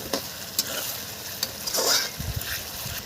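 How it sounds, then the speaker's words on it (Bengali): Garlic paste is stirred into frying onions in a village kitchen, a steady soft sizzle broken by a few light scraping and knocking stirs, with no talking. "এটা 1 মিনিট নাড়াচাড়া করে নেব।"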